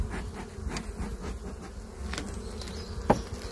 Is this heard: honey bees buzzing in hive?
yes